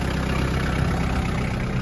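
A large Japanese Daewoo 551C turbo machine's engine idles quietly, a steady low hum held evenly throughout without talk.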